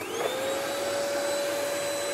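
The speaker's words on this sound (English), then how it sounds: "And turn on the Hoover." A Hoover vacuum cleaner runs in a garage, a loud, steady whirring roar with a constant high motor whine that holds unchanged throughout.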